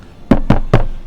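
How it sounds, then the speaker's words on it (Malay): Three firm, evenly spaced knocks land on a door, loud and close, each a sharp hollow thud in a steady rhythm with no voices. "Dia ketuk lagi, tak bagi salam."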